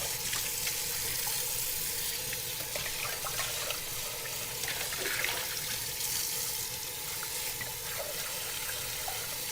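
Running tap water pours into a sink as a pot is scrubbed with a plant-based sponge, a steady hissing splash with faint scraping and clinks, no voices.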